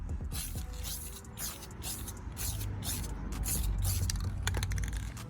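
Rust-Oleum spray paint hissing in repeated short bursts onto a car dash part, a close, airy spray with brief gaps and faint handling noises between passes.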